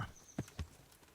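A summoned horse in Kingdom Come: Deliverance trots in, two distinct hoof clops landing close together, plus a brief whinny-like tone at the start, fairly quiet overall.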